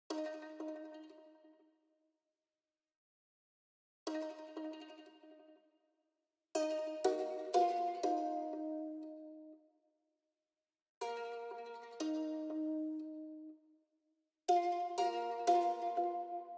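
Short ukulele counter-melody phrases from a Kontakt sample with a wobbling tremolo effect, plucked notes ringing out in separate bursts with silent gaps between, fairly quiet and alone.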